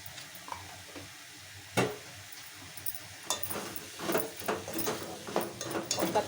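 Spices are stirred into ridge gourd curry frying in a pan, with a soft sizzle underneath and the scrape and clink of a spoon against the pan, growing busier toward the end.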